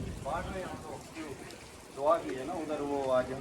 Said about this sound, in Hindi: ये देखें, ये बारिश हो रही है पूरी।